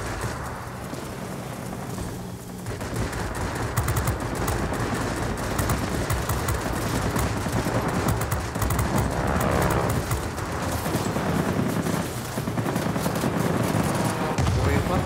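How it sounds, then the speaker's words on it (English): Rear turret gunfire from a warplane in World of Warplanes, heard as dense, continuous rattling bursts over engine roar and battle noise, steady and loud for the whole stretch, with players talking over it. "Tinira ko ng turret ko sa likod."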